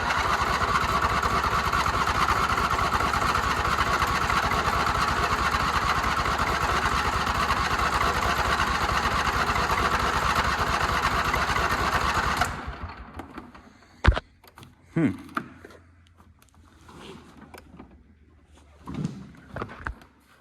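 A John Deere lawn mower engine, on a booster pack, cranks with a fast, loud, buzzing starter whir for about twelve seconds, then cuts off, leaving scattered clunks and quiet handling noises.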